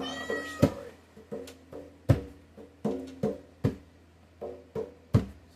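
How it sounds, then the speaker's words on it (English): A cat named Sausage meows repeatedly, about eight distinct close, fairly loud calls spaced roughly every half second to second, with nothing else in the background. "Sausage the cat has decided to enter the chat. Meow, meow, meow."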